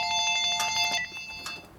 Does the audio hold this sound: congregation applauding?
no